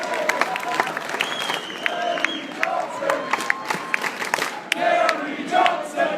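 A packed indoor rally crowd for presidential candidate Gary Johnson in Colorado keeps up steady applause and cheering, with scattered whoops and shouts rising above the clapping.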